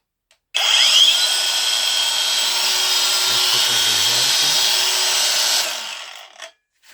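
A Devolt DCG 405 angle grinder spins at fourth speed, a loud, steady high-pitched whine that starts abruptly, holds for about five seconds, then winds down.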